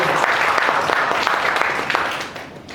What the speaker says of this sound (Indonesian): Tepuk tangan buat yang kuning-kuning Bapak Ibu.